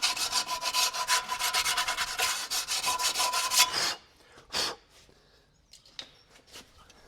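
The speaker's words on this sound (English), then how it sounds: "Grab some sandpaper, give them a little clean up." Sandpaper rubs briskly against corroded parts while servicing an old Volkswagen campervan, a dense, steady scratching for about four seconds, then a few short, softer strokes and scrapes.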